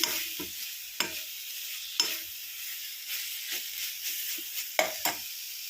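Chilli powder fries in a pan for tomato rasam, heard as a quiet background sizzle with sharp scraping stirs of a spoon roughly once a second, with no voices.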